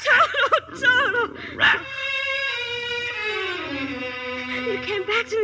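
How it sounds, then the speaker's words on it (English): Small brown and white dog barking and whimpering in a Wizard of Oz radio drama, a run of close yips and a long whining howl sliding down in pitch, with brief voice at the start. "there's a little brown and white dog looking all over for you"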